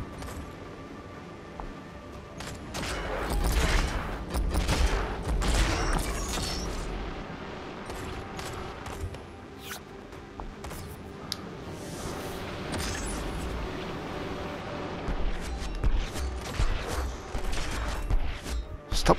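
Enemy gunfire in the VR shooter Ghost Signal, a Stellaris game, heard as clustered bursts of sharp shots and booms over a dense rumbling game soundscape, moderately loud with quieter gaps between volleys.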